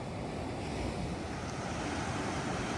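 Surf rolls steadily onto the beach at Ocracoke Island in North Carolina's Outer Banks, a continuous broadband wash of breaking waves with some wind rumble, close and even throughout with no voices.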